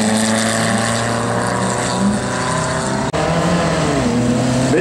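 A classic Porsche 904 race car with a fiberglass body roars past at a historic car show at Schloss Dyck, its loud engine note holding high and rasping, then shifting pitch as it moves away.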